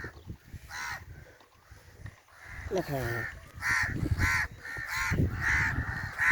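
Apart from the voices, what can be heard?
crows cawing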